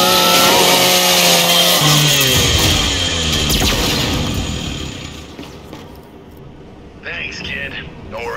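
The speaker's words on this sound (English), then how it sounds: "scrap that custodial unit for me. Just use your Lancer's chainsaw." Revving Lancer rifle chainsaw from the video game Gears 5 grinds loudly through a custodial robot, the buzzing engine rising then tapering off with metallic scraping, while characters talk over and after it.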